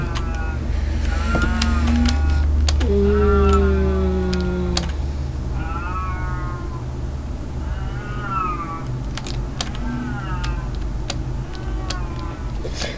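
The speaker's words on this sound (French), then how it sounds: "le chat qui miaule." Several plaintive, drawn-out cat meows repeat over thirteen seconds, close and fairly loud, mixed with a steady low hum and faint clicks, with no talk.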